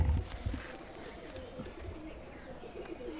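An old pigeon coos softly nearby, low throaty murmurs against a quiet background with faint rustling.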